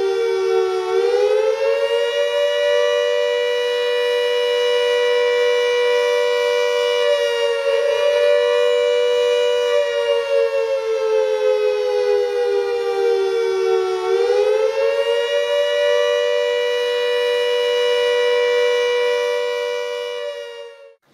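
A loud siren wails continuously, its steady tone rising and falling slightly in pitch, sustained for a long stretch before cutting off at the end.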